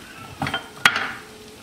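A metal lid closes onto a pot of simmering chicken curry with gravy: a few soft clatters, then one sharp clink with a brief ring, close and fairly quiet.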